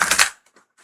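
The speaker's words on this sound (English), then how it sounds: "That was a beautiful shuffle" A deck of tarot cards is riffle-shuffled during a live reading: one quick papery flutter of cards lasting about a third of a second, followed by a few faint ticks as the deck settles. No one speaks.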